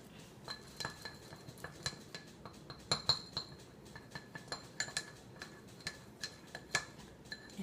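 Homemade lip balm mixture stirred in a container, giving light, irregular clinks and ticks of a utensil against the sides, close and quiet, with no talking.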